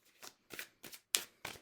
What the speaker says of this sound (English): I want to make sure it's good and shuffled.